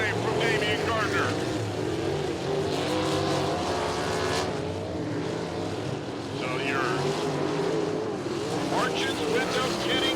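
Sprint cars roar around the dirt oval at Lincoln Park Speedway during a Coors Light heat race, with loud, continuous engine drone and passing surges under an announcer's commentary.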